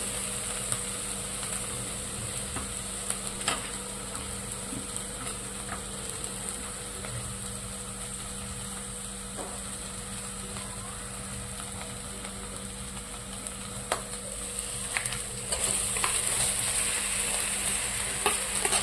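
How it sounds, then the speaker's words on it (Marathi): Potatoes sauté and get mashed in a pan for bread pakora filling, a steady low sizzle with soft scraping and stirring strokes throughout, fairly faint and close, with no talking. "चांगलं परतून घ्यायचं ते. बटाटे असे बारीक करायचे चांगले."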